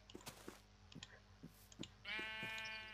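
Sheep in the Minecraft JurassicCraft mod bleat with a sustained wavering cry near the end, preceded by scattered game clicks and soft taps.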